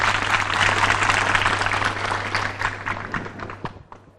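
Audience at a Balinese temple ceremony in Karangasem gives sustained applause, dense clapping that fades out toward the end over a steady low hum.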